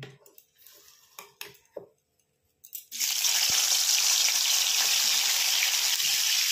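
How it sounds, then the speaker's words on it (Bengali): Marinated bitter gourd slices drop into hot oil after a few soft kitchen clinks, then a loud, steady sizzle of frying fills the rest, close and continuous with no talking. "তো এবার আমি একটু একটু করে এই উচ্ছেগুলোকে ছেড়ে দেবো, যেটা আমি ম্যারিনেট করে রেখেছিলাম।"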